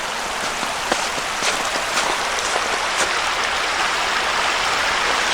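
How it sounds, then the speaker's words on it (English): Snowmelt stream in Swatara State Park rushing steadily, a loud broadband hiss of running water close by with no voices. "Streams are running nice though."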